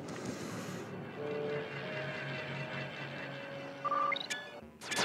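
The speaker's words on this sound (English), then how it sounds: "The train should be picking up speed." A train in the video game Sly 2: Band of Thieves rumbles steadily with a droning mechanical hum and faint whistling tones, ending in a few sharp metallic clanks.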